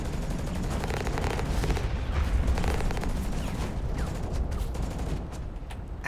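Mech gunfire in the video game Hawken rattles in rapid bursts over a constant heavy rumble of battle noise, loud and close throughout.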